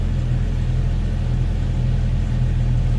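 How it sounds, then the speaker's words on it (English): A 1998 Jeep Cherokee's 4-liter inline-six runs at a steady idle, giving a smooth, even, low rumble heard up close with no other sounds. "Sounds good. And again, that 4-liter inline 6."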